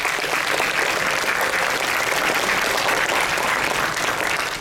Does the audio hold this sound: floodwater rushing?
no